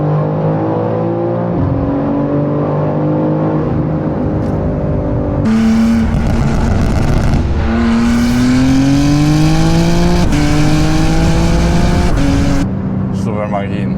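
A 2024 BMW M3 G-Power Competition engine revs hard in the cabin, its pitch climbing through the gears with abrupt drops and blips at downshifts, while someone talks over the engine noise.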